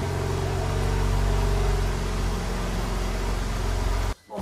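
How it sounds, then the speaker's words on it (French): A car rolls into a newly built home garage for parking, its engine a steady, loud, close rumble that continues throughout before cutting off abruptly near the end. "Maintenant, on rentre la voiture."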